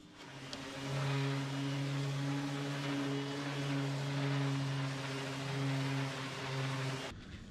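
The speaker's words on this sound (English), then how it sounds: "Now I'll use the sander to round this." A power sander runs on a plywood boat edge, rounding it, with a sustained droning hum that starts and stops abruptly, heard alone at moderate distance.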